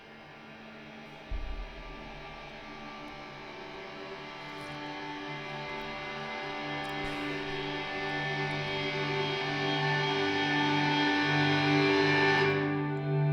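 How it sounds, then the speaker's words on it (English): A droning, hazy ambient texture with layered hums and reverb-soaked tones slowly swells louder over thirteen seconds, then cuts away at the end. "I created this crescendoing ambient texture that kind of opens it off."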